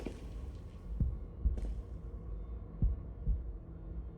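A heartbeat sound effect in the visual novel Tsukihime thumps in slow paired beats, low and muffled over a quiet hum, with no voices.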